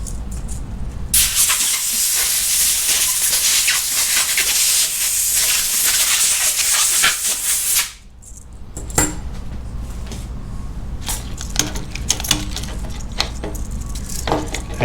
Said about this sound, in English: use a little compressed air. Don't let the bearing spin.